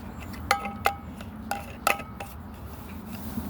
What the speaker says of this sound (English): Pop the lid back on and let that cook.